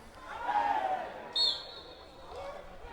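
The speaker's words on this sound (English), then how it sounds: "a big appeal from the crowd" At a football match, a crowd on the sidelines lets out a raised shout of appeal that swells briefly, followed by a sharp whistle blast.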